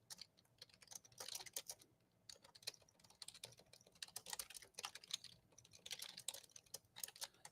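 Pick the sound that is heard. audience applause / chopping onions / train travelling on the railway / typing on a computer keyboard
typing on a computer keyboard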